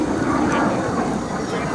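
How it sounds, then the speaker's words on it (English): An L-39 Albatros jet flying at the 2011 Culpeper Air Fest gives off a broad, steady roar across the whole stretch, distant and sustained, with an announcer's voice talking over it. "He's going to pitch up the airplane at its optimal speed."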